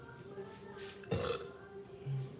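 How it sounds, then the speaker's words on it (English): A single burp rises out of quiet background noise around the middle, fairly loud and close, during dishwashing. "Sorry, I burped."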